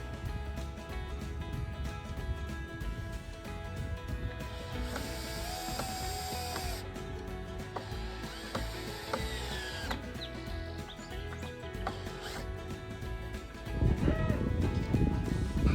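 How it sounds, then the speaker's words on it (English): A power drill drives screws into 2x4 lumber on a poultry cone stand, with several whirring, ratcheting bursts and pauses between them, close and moderately loud, followed by rumbling handling noise. "Just tacking these in with 1 screw each, and then we will go ahead and give them a few more screws"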